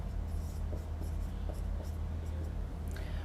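A vector dot product equation being written out by hand, a steady run of soft scratchy strokes over a low constant hum, close and fairly quiet with no voice.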